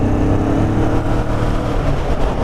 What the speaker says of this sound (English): That was fourth gear acceleration.